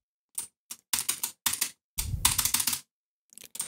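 Someone types a code on a computer keyboard in quick, close clusters of key presses. A longer burst comes in the middle, with a few light taps after a pause, and no one speaks.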